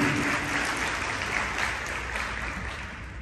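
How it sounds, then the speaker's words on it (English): A round of applause from the audience at a high school aviation symposium closing ceremony, continuous dense clapping holding at an even level, close and full, with no voices standing out. "One more time, round of applause."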